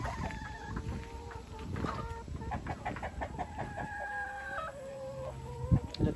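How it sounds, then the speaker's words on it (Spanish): Free-range hens and chickens clucking steadily on a rural farm, a dense chorus of overlapping calls with a rooster crowing among them, fairly close with no talk. "Miren, una granja de gallinas, de pollos"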